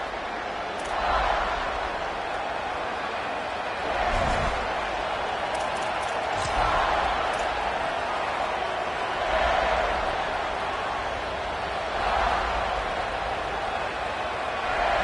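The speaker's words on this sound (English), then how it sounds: "This crowd ready to make its presence known." A football stadium crowd keeps up a steady roar that swells in a few surges during a game, heard beneath a commentator calling the play-by-play.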